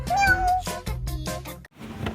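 A domestic cat meows repeatedly at close range, giving a quick series of several rising and falling cries with brief pauses, while a person talks faintly in the background.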